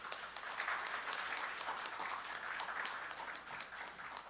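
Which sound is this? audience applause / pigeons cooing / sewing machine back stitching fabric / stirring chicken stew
audience applause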